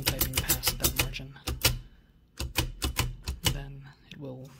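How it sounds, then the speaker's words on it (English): Antique Empire No. 2 thrust action typewriter from 1914-1922 clacking in rapid, close bursts of keystrokes, with a brief pause midway before the typing resumes. "which I believe is meant to allow one to just keep on typing past that margin"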